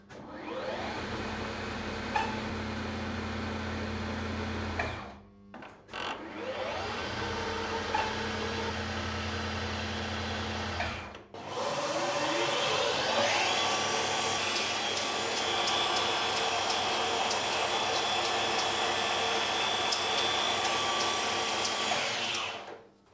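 A lathe or mill spindle head on a machine tool runs through its speed range starting slow, a steady whirring mechanical drone that stops twice briefly and then returns louder and higher for a long sustained run.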